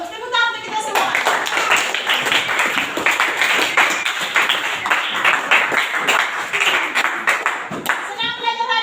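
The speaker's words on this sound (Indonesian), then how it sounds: "Tepuk tangan untuk kita semua." A classroom group applauds together, a loud burst of steady, dense clapping lasting about seven seconds, with a teacher speaking briefly just before and after.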